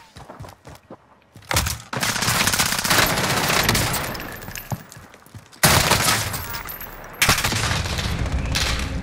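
Call of Duty match with heavy automatic gunfire: bursts of rapid shots, long sustained volleys and sharp cracks, loud and close, breaking off in short pauses.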